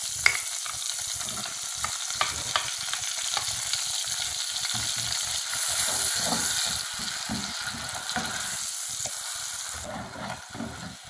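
Onion and garlic sizzle and fry in hot margarine in a pan, a steady close crackling hiss with occasional stirring scrapes for over ten seconds, with no talking.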